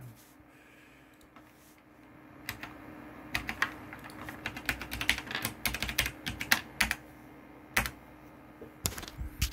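Typing on a computer keyboard while setting up an M.2 NVMe SSD on an Asus H97M-Plus motherboard, with irregular clusters of close key clicks over a steady low hum from the computer, without speech.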